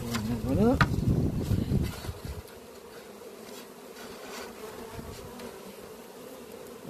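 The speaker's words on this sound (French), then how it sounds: "Je peux tomber mes abeilles." Honeybees buzzing around an opened nucleus hive while frames and bees are transferred into a full hive, a dense close hum, louder in the first two seconds then settling into a steady softer drone.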